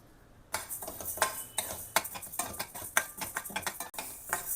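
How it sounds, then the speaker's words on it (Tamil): Half a cup of split green gram dry-roasting lightly in a kadai for sweet steamed leaf appam, with close, repeated scraping and clattering of a spatula stirring against the pan in an irregular rhythm and no voices. "ஒரு கடாயில் ஒரு அரை கப் பச்சை பயிறு உடைச்சது போட்டு லைட்டாக வறுத்துக்கலாம்"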